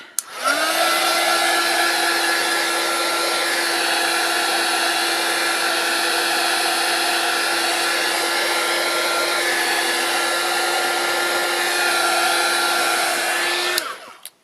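A hair dryer dries gesso on a journal page, switching on and running as a loud, steady whine and rush of air for about thirteen seconds before switching off.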